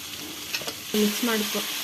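Cauliflower, capsicum and potato curry sizzles steadily in a pan, with a few stirring scrapes cutting through the continuous close frying hiss.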